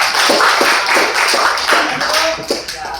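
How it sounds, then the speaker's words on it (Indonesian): Students and a teacher clap together in a school setting, a steady rhythmic burst of hand claps at a loud, close level, with crowd voices mixed in and the clapping trailing off near the end. "tepuk tangan buat kita semua"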